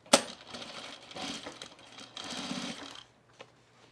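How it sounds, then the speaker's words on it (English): Domestic sewing machine top stitching denim jean shorts, a quick mechanical clatter in two short bursts after a sharp initial clack, close and moderately loud, with no voices. "now we're going to turn and top stitch"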